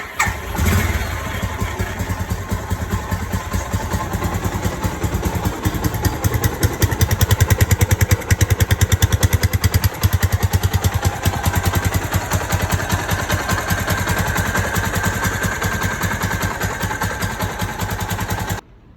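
A 1999–2012 Suzuki GZ250 Marauder motorcycle engine fires up and settles into a steady idle after its carburetor jets were cleaned, a loud, even mechanical putter running continuously close by.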